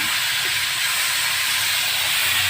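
Mushrooms sautéing and steaming in a pan, a loud, steady, close sizzling hiss with no pauses and no talk.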